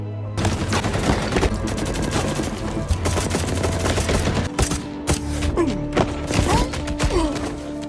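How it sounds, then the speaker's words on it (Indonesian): Rapid gunfire fills a cartel shootout scene in an action film, dense bursts like machine-gun fire mixed with thuds and impacts, loud and continuous with a brief pause near the middle. "Mendengar suara tembakan, Garza lalu bergegas menghubungi bantuan yang lebih banyak."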